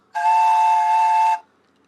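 A steam-style train whistle blows one steady, loud blast lasting just over a second, then cuts off into silence, with no talking over it.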